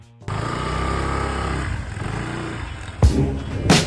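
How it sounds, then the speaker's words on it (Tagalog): A motorcycle rides through Baguio City streets at night, its engine droning steadily and close, with two sharp bursts of louder noise near the end. "Nabaybayin ang kalsadaan ng Baguio City na gamit ang ating motor."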